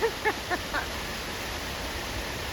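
A long river waterfall gives off a constant broad rushing roar, with a few brief bird chirps at the very start.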